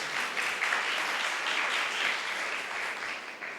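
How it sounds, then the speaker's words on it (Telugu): A church congregation at a 23rd anniversary service bursts into sustained, dense applause, many hands clapping together at moderate volume for several seconds before easing slightly. "అయితే చప్పట్లతో స్తోత్రం చేయండి"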